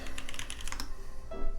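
Rapid, steady typing on a TKC Kiwis mechanical keyboard, crisp clacky keystrokes in a dense close-up patter with no voices.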